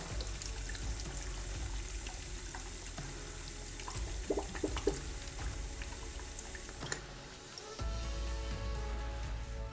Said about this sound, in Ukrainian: Пішла вода.